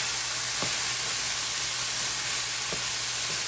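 Carrots and celery sizzle steadily in a pan as they cook down for a vegan lentil loaf, a constant broadband hiss with a few faint low knocks.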